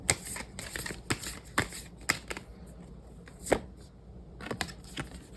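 Tarot cards being shuffled and drawn in a quiet room, a run of crisp riffling flicks and slaps coming in irregular bursts, close and clear with no talking.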